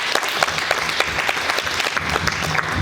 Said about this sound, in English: Come on and give the Lord a hand clap of praise